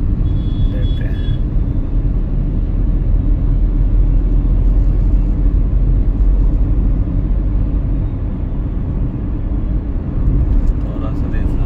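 A car picking up speed on the road from New Delhi to Ghaziabad, heard from inside as a loud, steady low engine and road rumble that holds throughout.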